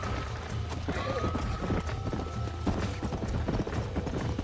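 Horse hooves galloping in Red Dead Redemption, a fast steady clip-clop of hoofbeats running continuously and fairly loud over game background sound.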